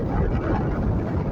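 Wind blowing steadily at a beach at El Cotillo on Fuerteventura in the Canary Islands, a loud, continuous low rushing roar that fills the whole short stretch without a break.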